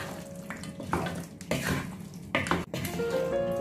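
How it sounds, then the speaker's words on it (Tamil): A pot of spicy village chicken curry is stirred with spices and half a lime, giving wet, sloshing scrapes in several bursts with short pauses between them, fairly close and with no talking. "எல்லாத்தையும் கலந்து விடுவோம்."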